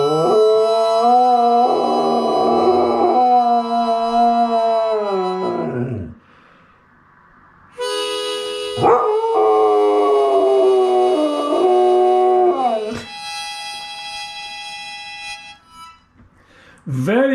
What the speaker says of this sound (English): Aye, my dog can sing.